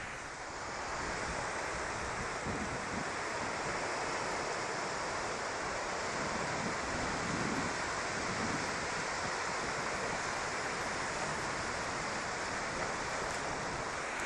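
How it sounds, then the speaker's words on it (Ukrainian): Sea waves at high tide, captured on a phone microphone held near the water, wash in as a steady hissing roar with soft low rumbles and wind noise, continuous and fairly close, no voices. "я спробую підійти якомога ближче до води і направлю на хвилі мікрофон мого телефона"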